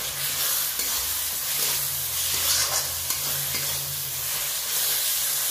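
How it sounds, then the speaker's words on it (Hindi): Mutton sizzles as it fries with masala for a Bihari-style spicy mutton curry, with steady close sizzling and scraping stirs running throughout, no voices. "चलिए दोस्तों मिक्स कर लेते हैं मसाला के साथ हम मटन को भूनेंगे।"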